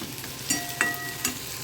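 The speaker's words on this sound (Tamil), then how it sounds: "கருணக்கிழங்கு வேக வச்சுட்டு வறுத்துட்ருக்கேன்" Boiled elephant foot yam fries with tamarind and chili powder in a pan, giving a continuous close sizzle broken by three sharp spoon clinks against the metal; no talking.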